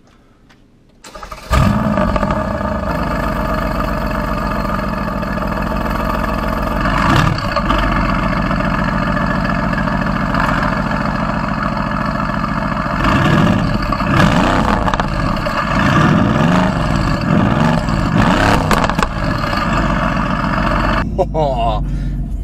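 Mercedes-AMG car engine humming steadily while driving, a continuous low drone with a few surges and revving swells, heard from inside the cabin with no music playing.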